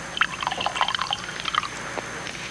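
Tea is poured into cups, close by, with light splashing and trickling in uneven bursts that fade toward the end.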